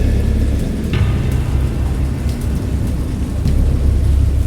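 A thunderstorm in the Lovecraft horror video game Dagon: loud, steady downpour with a deep continuous rumble of thunder beneath, a constant dense roar.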